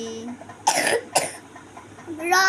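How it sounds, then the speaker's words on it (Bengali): A child coughs twice in quick, loud bursts, with quieter voice-like sounds between and a brief tonal sound at the end. "তোমার কাশি হয়ে গেছে বাবা"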